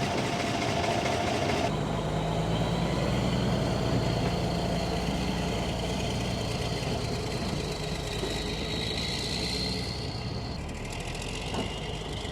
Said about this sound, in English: I'm going to fire up the Peterbilt.